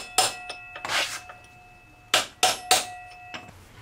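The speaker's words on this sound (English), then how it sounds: "punch the axle out from the other side using a hammer and a punch" Several sharp metallic taps of a hammer on a punch driving out a Ninja 500R motorcycle's front axle, a few spaced strikes then a quick cluster of three, with faint ringing between hits.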